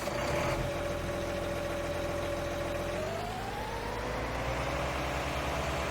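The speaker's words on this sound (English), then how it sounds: "So this is our tractor here." A tractor engine idles in the farming game Farming Simulator 19, a quiet, steady mechanical hum with a thin whine that rises slightly partway through.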